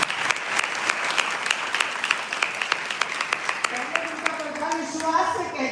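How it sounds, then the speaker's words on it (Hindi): A church congregation at Sunday worship claps together in a steady rhythmic beat, many hands striking in time, loud and continuous, with a voice speaking over the applause toward the end. "ताली जो बहन के लिए"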